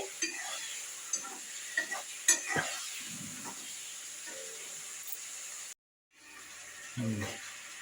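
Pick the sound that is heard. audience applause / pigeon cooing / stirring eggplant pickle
stirring eggplant pickle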